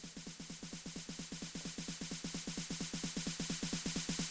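909 snare roll in FL Studio with a drawn velocity shape: a fast, steady stream of identical snare hits whose loudness rises gently across the roll, quiet and mechanical throughout.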